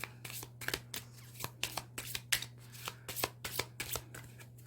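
Tarot and Mystigri cards are shuffled and flicked in quick bursts of crisp, papery riffles, with a low steady hum underneath.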